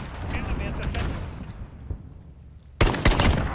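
SKS marksman rifle fire in the video game Modern Warfare, several sharp cracking shots in quick succession near the end after a stretch of quieter in-game noise, with someone talking early on.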